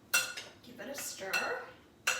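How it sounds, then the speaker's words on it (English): A spoon stirs pasta in a cooking pot, giving scraping swirls and sharp metallic clinks against the pot rim in a few separate bursts, close by and fairly loud. "Give it a stir."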